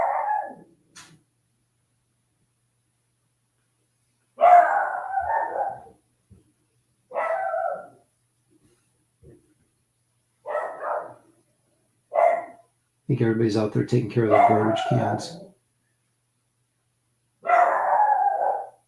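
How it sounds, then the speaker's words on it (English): A dog barks and howls indoors in short bursts spread apart, with a longer drawn-out howl near the middle, while someone talks between them. "That's my dog saying hello."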